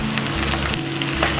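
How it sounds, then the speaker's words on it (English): Ginger garlic paste frying on high flame in a pan for a Hyderabadi green chicken curry, giving a continuous loud crackling sizzle with a low hum beneath, close and without voices. "I'm going to fry this"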